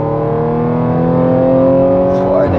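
An Audi S5 with 480 hp accelerates hard, its engine note climbing steadily and loudly through a strong, sustained rev before dropping sharply near the end as a gear changes.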